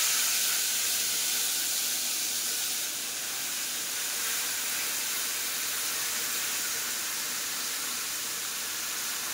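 Tamarind water poured into a hot pan for temple-style tamarind rice gives a steady, bright sizzling hiss that stays even and close for several seconds, with no talking.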